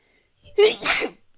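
A single sharp human sneeze, loud and close, with a brief inhale before the burst and nothing else around it.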